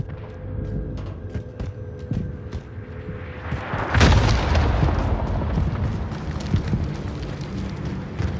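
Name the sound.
bombardment explosions in Warzone video game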